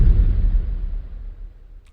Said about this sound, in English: maybe it's an explosion thing